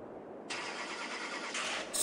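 An old pickup truck engine in Farming Simulator 22 cranks and catches, settling into a steady mid-pitched rumble with a brief rise in revs near the end.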